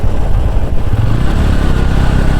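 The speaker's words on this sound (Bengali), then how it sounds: "এত গাড়ি এখানে আসে মোটরসাইকেল আর কার" Motorcycles and cars passing at night in Purbachal, a loud continuous low engine rumble with fluctuating drone as traffic goes by close.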